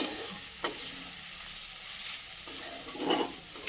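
Vegetables sautéing in a pan over lowered heat, a soft continuous sizzle broken by a few sharper clinks and scraping stirs, with no one talking.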